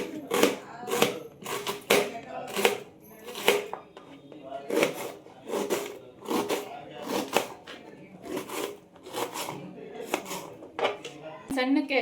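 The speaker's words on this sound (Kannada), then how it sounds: "ಮಶ್ರೂಮ್ನ ಕಟ್ ಮಾಡ್ಕೋಬೇಕು" A kitchen knife chops mushrooms into small pieces on a board, producing a close, crisp series of quick knocks in uneven bursts that repeat throughout.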